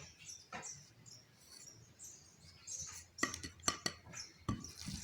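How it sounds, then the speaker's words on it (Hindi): Kofta mixture of mutton mince and gram flour being worked by hand in a bowl, with soft squelching and scattered clinks and knocks against the bowl, a few sharper taps near the end, close and fairly quiet. "इसे हमने अच्छी तरह से मिक्स कर लिया है।"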